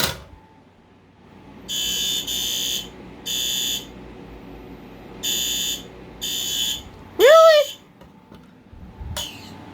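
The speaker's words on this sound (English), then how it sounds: "And for our final test, an actual fire alarm." A fire alarm sounds in repeated buzzing bursts, two quick blasts then a pause, heard from a distance over room noise, with a brief voice partway through.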